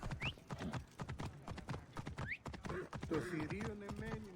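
Horse hooves clip-clopping in Assassin's Creed Origins, a quick steady trot of sharp hoof beats, close and prominent, with a brief whinny and game sounds near the end.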